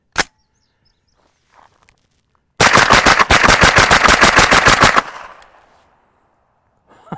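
A rifle firing subsonic ammunition in one fast burst of roughly a dozen loud, close, evenly spaced shots lasting a couple of seconds, followed by a fading echo and a single sharp report near the start.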